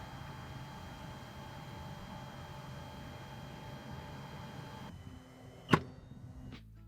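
Spinfire Pro 2 tennis ball machine running with a low, steady hum and faint hiss for about five seconds, then quieter before a single sharp, loud pop or launch sound near the end, followed by a fainter click.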